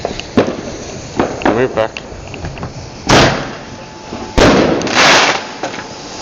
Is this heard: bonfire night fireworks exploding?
yes